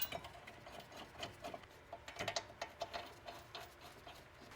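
Brake caliper bolts being snugged down on a 2007-2013 Nissan Altima during a front pad and rotor job: a close run of quick ratcheting clicks, irregular and bunched in bursts, fairly soft with no talk.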